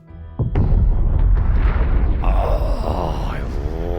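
Loud booming video game explosions hit in quick succession, a sharp blast followed by another, then a long rumbling roar with a whooshing, shifting tail as the sound seems to pass by.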